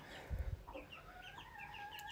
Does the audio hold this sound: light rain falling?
no